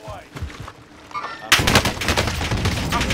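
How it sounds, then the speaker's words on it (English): Rapid bursts of gunfire in the Rebirth Island video game, sparse at first and then a loud, dense, continuous volley that fills the second half. "It's dudes shooting from top prison."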